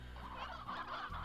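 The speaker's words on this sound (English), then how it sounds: "we did get a rooster" A rooster in the video game Slime Rancher gives a short, faint fowl call, a brief gobbling cluck lasting about a second.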